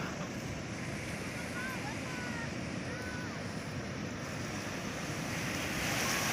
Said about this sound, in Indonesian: Inilah Pantai Ngudel, keseruan menikmati keindahan dan eksotisme Pantai Ngudel